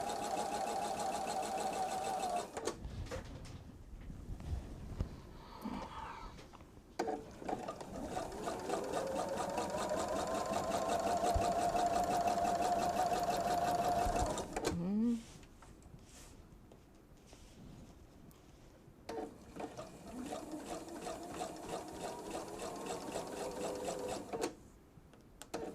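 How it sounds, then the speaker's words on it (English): A sewing machine stitches fabric pieces cut from a jelly roll for bags, running in long steady bursts with brief pauses between, close and clear with no talking. "Yes, we are sewing this time."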